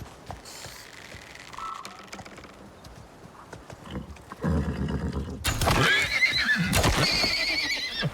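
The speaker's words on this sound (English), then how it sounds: "I think that's a horse" A horse in the survival video game ICARUS whinnies loudly in a rising, shaky call after quieter clip-clopping hooves and faint ambient sounds, the neigh dominating the second half.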